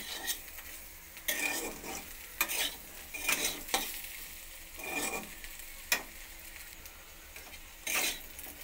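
Potato and brinjal pieces frying in a wok are stirred now and then, with scraping strokes breaking through a steady low sizzle, close and fairly quiet, no voices.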